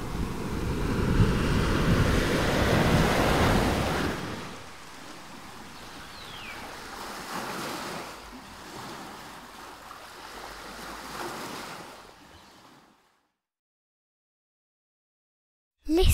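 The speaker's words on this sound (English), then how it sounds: "The crashing waves of a distant sea" Waves surge and wash in a broad rushing swell, loud at first, then softer rolling surf with a couple of further swells before falling silent.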